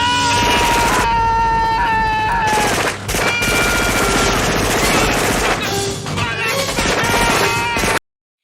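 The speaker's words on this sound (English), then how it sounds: "the cops begin opening fire on him" Police open fire in a shootout scene from Halloween 4: The Return of Michael Myers, a loud sustained barrage of rapid shots layered over dense film music and effects, pausing briefly before resuming.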